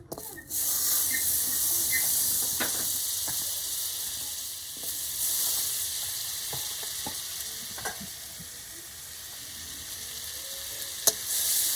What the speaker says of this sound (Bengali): আমার কড়াইটা গরম হয়ে গেছে এবার আমি এর মধ্যে দু চামচ বাটার দিয়ে দেব